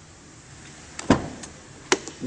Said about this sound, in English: These doors open all the way back, easier access.